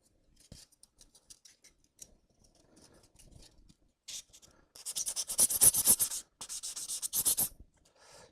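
A landscape piece sanded by hand with sandpaper: faint light scratches at first, then loud, rapid back-and-forth rasping strokes in quick rhythmic bursts, close up.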